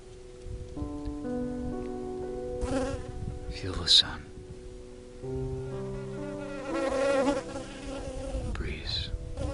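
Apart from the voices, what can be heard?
bee buzzing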